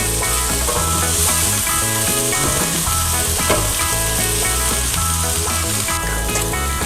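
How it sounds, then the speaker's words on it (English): Onion and peppers frying in oil in a pot on medium heat, a loud, steady close sizzle that continues without a break throughout. "We want to mix those in with the onion. and let it sizzle."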